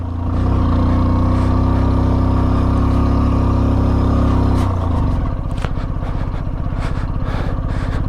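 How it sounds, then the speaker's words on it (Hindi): A Hero Splendor motorcycle engine labours in second gear on a high mountain road toward Umling La pass, loud and droning close by, then shifting into a rougher, pulsing beat partway through. "दूसरे गियर में चल रही है अभी भाई।"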